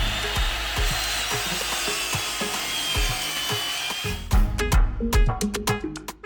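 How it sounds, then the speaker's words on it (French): Woodworking table saw tilted for a 45-degree bevel cut while laying a bathroom floor in a bus conversion, a steady rasping cut that ends around four seconds, followed by sharp clacks and knocks of wood being handled. "je règle la scie sous table et on essaie de faire la coupe à 45."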